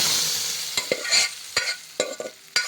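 Cooked dal hits a hot tempering for Chettinad idli sambar, giving a fading hiss of sizzling oil punctuated by several sharp ladle clanks against the pan, close and fairly loud, with no talking.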